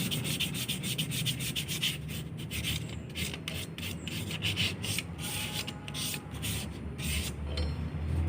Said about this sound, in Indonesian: kita akan gosok menggunakan kertas amplas macam ini